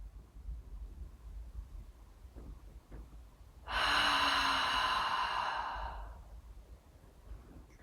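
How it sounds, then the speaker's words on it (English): A soft inhale and a long, slow exhale in a breathing exercise, with the breath out as a steady, close, airy rush lasting a couple of seconds after near-silence. "So soft inhale here. Nice long exhale out. Soft inhale again."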